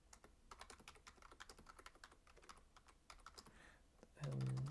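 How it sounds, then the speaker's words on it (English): Steady clicking of keys on a computer keyboard, quick uneven taps close by, ending with a brief louder burst of noise. "I'm typing without looking because of the way my screen is set up."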